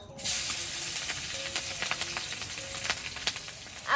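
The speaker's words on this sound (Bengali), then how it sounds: "মাছ ভাজার তেল আছে ওতে দিয়ে দেবো কালো জিরে আর কাঁচা লঙ্কা" Nigella seeds and green chillies sizzle in hot oil left over from frying fish, a steady close crackling hiss with scattered pops throughout.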